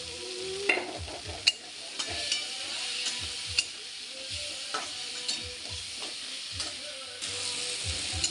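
Tomatoes frying in a pan with salt and turmeric for a prawn fry, a continuous sizzle with repeated scraping and stirring strokes of a spoon, fairly close, without speech.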